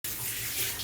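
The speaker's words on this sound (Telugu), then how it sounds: "అరకప్పు నీళ్లు పోసుకుందాం." Half a cup of water is poured onto jaggery in a pan for coconut sweets, giving a steady, faint splashing rush that runs unbroken for under a second.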